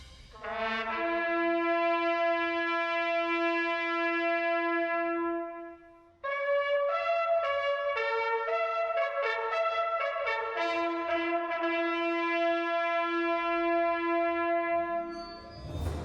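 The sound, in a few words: bugle call of the daily memorial ceremony in Ypres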